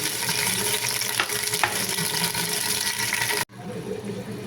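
Masala tipped into a pan of hot oil sizzles loudly and steadily while being stirred, then the sound cuts abruptly and resumes quieter for the final second.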